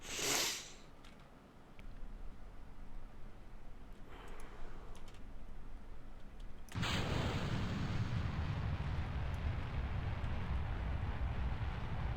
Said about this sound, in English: I just want to see how fast this one is going to explode